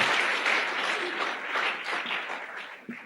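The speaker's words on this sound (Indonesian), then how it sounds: "Tepuk tangan untuk Tiansi dan One Vision." Audience applause at a seminar: a full crowd claps steadily and loudly for about three seconds, tapering slightly toward the end with no talk over it.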